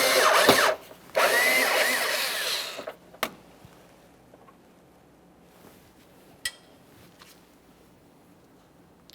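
A power drill backs Phillips head screws out of the inner fender liner of a 2010–2013 Kia Forte Koup, with two loud, close whirring bursts early on, then a few brief clicks and small handling knocks in near quiet.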